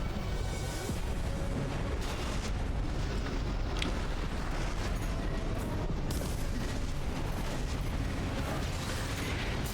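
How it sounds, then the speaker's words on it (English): Continuous dense explosions and mechanical rumble from destroyed Gatling cannons in the mech combat game Armored Core VI: Fires of Rubicon, loud and sustained with repeated bursts and no voices. "Gatling cannons destroyed."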